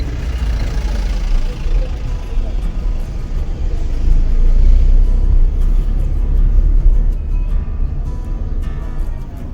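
A car drives slowly through a traffic jam on a narrow mountain road between Mukteshwar and Ramnagar. The engine gives a loud, constant low rumble and road noise throughout, with no clear speech.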